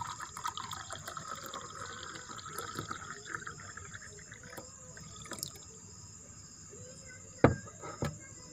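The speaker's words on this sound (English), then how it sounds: "Now let us pour water into the glass" Water from a jug pours into an empty glass, a faint continuous trickle and fill with small splashes, ending in a couple of sharp clinks near the end.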